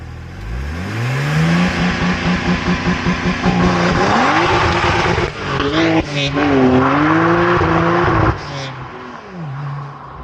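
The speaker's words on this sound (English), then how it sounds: "manual you can pretty much hit limiter and it will bounce off limiter" A 2009 BMW 135i with a manual gearbox revs hard, climbing through gears and bouncing off the rev limiter in stuttering bursts, loud and close, with someone talking over parts of it.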